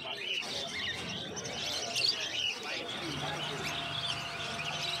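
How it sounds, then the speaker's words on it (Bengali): Many finches chirp and tweet busily together at a pet market in Uluberia, high twittering calls overlapping under a general murmur of background chatter. "এখানে প্রচুর ফিঞ্চ পাখি রয়েছে দেখতে পাচ্ছ"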